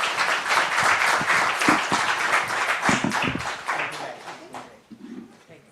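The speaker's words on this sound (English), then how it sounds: "I hope that you thank them with a good hand of applause" Audience applause for a panel at a news and AI conference, dense clapping filling the room and slowly thinning out toward the end, with some voices mixed in.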